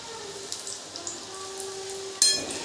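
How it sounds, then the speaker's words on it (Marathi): Steady crackling sizzle of wheat-flour shankarpali dough pieces frying in hot oil, close up, with a brief louder clatter near the end. "आता आपण याचे शंकरपाळे तळणार आहे"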